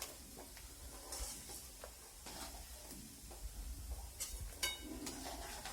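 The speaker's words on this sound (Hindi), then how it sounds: "आंच को हम स्लो रखेंगे और हमारे काजू बादाम बहुत देर तक नहीं तलना है" Cashews and almonds frying over low heat in a pan, a soft steady sizzle with occasional stirring scrapes and light clinks of a spoon against the metal, quiet and without talk.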